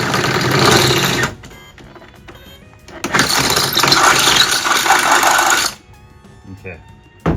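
A power drill bores out a pilot hole in a Sprinter van body for a rivet nut. It makes two loud, close bursts of whirring: a shorter one, then a longer one of several seconds, with quiet gaps around them.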